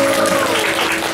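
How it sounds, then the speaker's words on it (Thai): Steady, dense applause from a concert audience at a charity concert, loud and close, filling the whole moment without pause. "ปรบมือให้ตัวเองหน่อยครับ"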